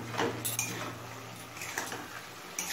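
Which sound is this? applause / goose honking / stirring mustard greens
stirring mustard greens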